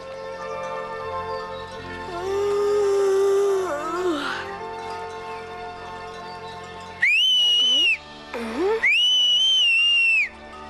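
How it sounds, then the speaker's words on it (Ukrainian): Someone whistles a few clear, sliding notes, first softly over background music, then several loud, bright pitched whistles with short gaps between them. "навчилася гарно свистіти"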